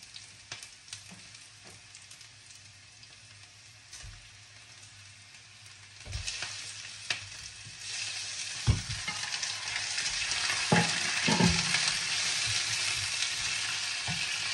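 Golden-brown sea bream fries in a pan, a quiet hiss at first that swells into a louder, denser sizzle in the second half, with a few sharp pops and clinks.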